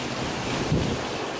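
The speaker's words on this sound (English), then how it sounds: "this is a pretty bad storm. You got water coming down freaking everywhere." A summer storm roars with wind and pouring rain, buffeting the microphone in a steady, dense rush with no break and no voices.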